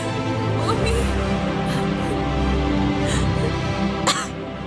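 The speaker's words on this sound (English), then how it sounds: "the coughing sound, it's more along the lines of something got caught in my throat instead of I'm having trouble breathing" A character in an animated episode coughs, short throaty bursts like something caught in the throat, heard several times over a steady low background hum.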